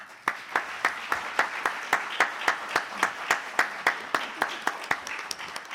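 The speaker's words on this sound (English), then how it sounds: "So let's give them a round of applause" Conference plenary audience claps at the close of a session: sparse, evenly spaced handclaps from a small group, fairly faint and distant, carrying on for several seconds.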